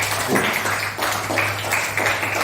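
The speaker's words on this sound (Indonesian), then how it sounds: "Oke, terima kasih tepuk tangan." Students in a classroom clap together in steady unison, a few bursts of applause spaced about half a second apart, fairly close and moderately loud.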